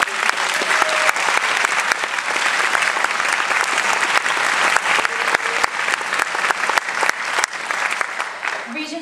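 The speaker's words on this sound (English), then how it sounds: "How about a big round of applause for Miss McDonald and all of her hard work?" A concert audience applauds after a middle school symphony orchestra performance, dense and sustained clapping from a large crowd filling the hall at a steady level, with some voices mixed in.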